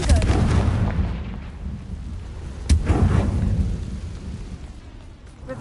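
A Confringo spell blast in Hogwarts Legacy sounds as a single sharp explosive crack midway through a rolling, thunder-like rumble that fades slowly, with no speech.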